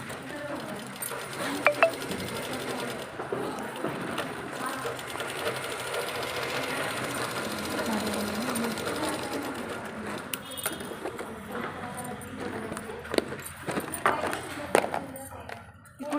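A sewing machine stitches cloth for the body of a garment, its motor running in a steady continuous whir, with a few metallic clinks and taps.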